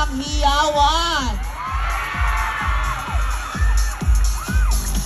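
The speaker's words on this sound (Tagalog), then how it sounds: "paninig po ko ng palakpakan ninyo lahat na may kasamang hiyawan" A lively crowd at a riverbank show with the cast of a comedy film cheers and whoops loudly, with rhythmic thumping beats under it and a voice rising above the noise.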